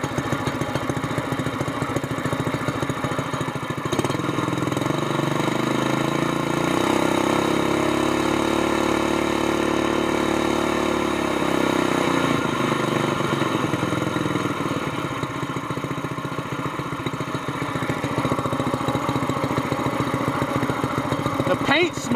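A mud motor boat engine with an upgraded exhaust runs continuously and close, a steady throaty idle with a slight rise and fall in pitch, under occasional talk.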